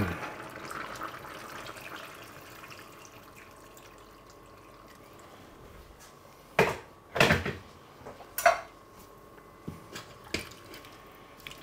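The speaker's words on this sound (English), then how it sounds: "Just add some more water." Water poured into a pot of goulash in a few brief splashing bursts, with faint drips and clinks after them, close by in a quiet kitchen.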